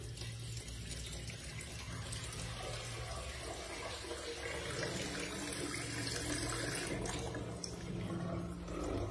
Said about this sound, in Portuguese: Abre a torneira aqui e você pode observar que não tem nenhum ponto aqui de vazamento